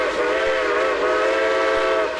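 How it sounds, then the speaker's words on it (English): Steam locomotive whistle of Great Smoky Mountains Railway 1702, a loud, sustained chime-like blast holding a steady multi-tone pitch for about two seconds, close and alone. "I always liked the whistle used by Great Smoky Mountains Railway 1702"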